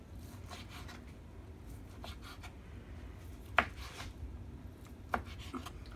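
A knife dices ingredients for homemade beans and ham on a cutting board, with soft scraping and a few sharper chops spaced irregularly, quiet and close.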